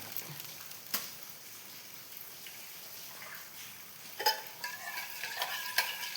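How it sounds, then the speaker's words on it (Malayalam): A roti batter mixture being stirred after sugar goes in, a soft steady scraping swirl with a few sharper clinks of the utensil against the vessel, close and fairly quiet with no talk. "അതും കൂടി ഇട്ടിട്ട് നല്ലവണ്ണം ഇളക്കി കൊടുക്കാം."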